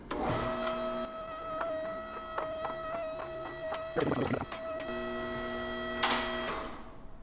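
An electric car lift raises a 6-speed BMW M3 in a garage, a steady loud motor hum with tonal whine and occasional clunks, running for several seconds before winding down.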